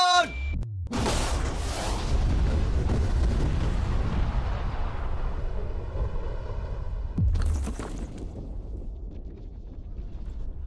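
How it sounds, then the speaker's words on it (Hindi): A huge blast of bombs set around a safe breaks into a long, heavy roar after a short lead-in, rumbling for several seconds before dying into a lighter crackle and a second surge, loud and close. "लेकिन ये एक असली धमाका है"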